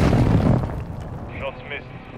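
An air strike in the video game Warzone 2 lands with a loud, heavy, rumbling boom in the first half-second, which then fades while a voice speaks over the tail.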